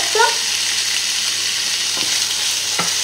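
Salmon risotto stirred in a pan over medium heat, giving a constant close sizzle with a couple of soft scraping touches and a brief tonal squeak near the start.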